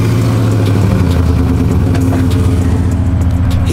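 A Ram pickup truck engine with its exhaust runs continuously, a loud, close, steady low rumble throughout with no talking.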